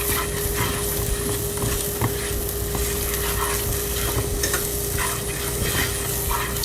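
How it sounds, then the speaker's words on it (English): Chicken being stirred into seasonings in a pan for stuffed chicken and cheese rolls, a steady scraping and stirring under a soft continuous sizzle with a low hum throughout, no talking. "Now the next thing we want to pour in is our chicken. And then we're going to stir that up."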